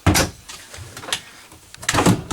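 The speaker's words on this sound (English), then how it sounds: "It's so new, the drawers are tight, guys." A tight pull-out drawer in the bedroom of a new 2017 Forest River Charleston 430 BH RV sliding open, with a firm scrape and thump at the start, a softer rub midway and another sliding clunk near the end.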